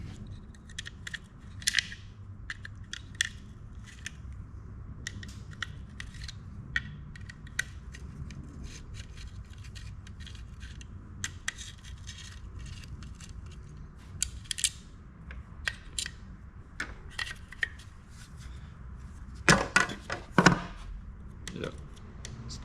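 Brackets for an off-road rear bar are bolted onto a Nissan Y62 Patrol, with scattered metallic ratcheting clicks and clanks over a low background hum, and a denser cluster of louder clanks near the end.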